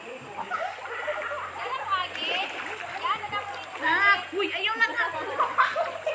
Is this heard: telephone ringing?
no